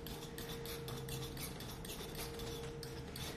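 White oil paint being mixed on a palette, giving soft, faint scraping and light clicking strokes in a steady quiet stream, with no talking.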